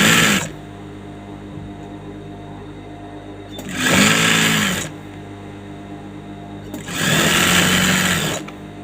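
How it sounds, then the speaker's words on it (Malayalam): A sewing machine stitches a saree blouse sleeve to its lining. It runs in three close, steady bursts of mechanical whirring, with quiet pauses between them. "രണ്ടാമത്തെ പീസും അതേപോലെ തന്നെ ഇട്ട് നമ്മൾ സെയിം മെത്തേഡിൽ സ്റ്റിച്ച് ചെയ്ത് കൊടുക്കുക."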